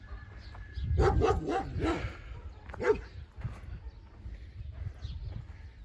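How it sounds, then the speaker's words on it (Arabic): A guard dog at a villa on a farm barks in a quick burst of several loud, close woofs, then one more bark after a pause, with fainter ambient noise afterward. "كلب ده للحراسه طبعا"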